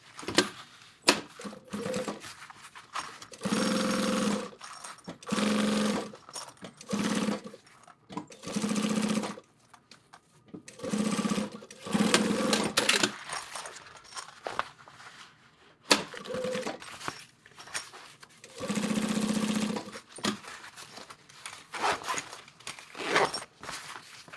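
A sewing machine nearly out of bobbin thread runs in repeated bursts of rapid mechanical stitching, starting and stopping every second or two, close by and fairly loud.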